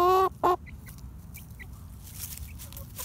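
Buff and Lavender Orpington chickens cluck in two short, loud bursts close by, then fall quiet over a low, steady background murmur with a few faint calls.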